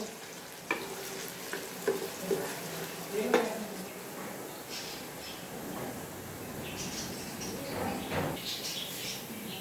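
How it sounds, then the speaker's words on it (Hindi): Onion frying in a pan until light brown, a soft sizzle with stirring scrapes and a few clinks of a spoon against the pan, moderately close with no talk. "प्याज को हम हल्का ब्राउन करेंगे।"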